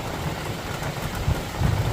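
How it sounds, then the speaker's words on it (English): Rain falls outside a caravan on a washed-out day, a steady soft hiss of drops with low rumbling thuds on the roof and no voices. "if I go out of it, I'm definitely going to be caught in rain"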